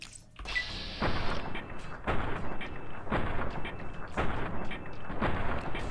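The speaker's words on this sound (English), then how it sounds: "They're just shooting at me." Enemies firing guns in the game Fallout: New Vegas: a series of sharp, booming shots about once a second, each fading into a short tail, loud and steady with no talk over them.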